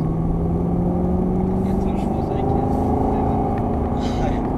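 Aston Martin accelerating hard out of a corner on a track, its engine note rising in a loud continuous rumble and whine heard from inside the car, with someone talking over it.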